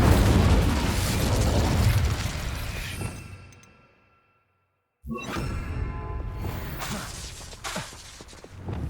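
The Incendio fire spell bursts in Hogwarts Legacy: a loud, roaring blast fades away over a few seconds, drops to a brief silence, then a second sharp, crackling burst erupts and rumbles on.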